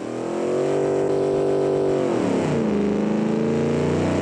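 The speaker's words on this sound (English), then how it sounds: "Like, it's a 500 horsepower V8" A 500-horsepower V8 car engine in Fallout revs up and holds a loud, steady roaring drone, pitch dipping and rising again midway, close and alone without talk.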